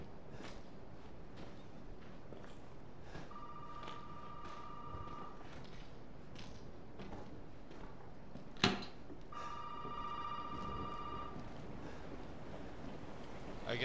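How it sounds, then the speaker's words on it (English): A telephone rings twice in long electronic trills, quiet and slightly distant, over faint ambient noise and a few soft thuds, in the video game Resident Evil 7 Biohazard. "You guys hear that phone ringing?"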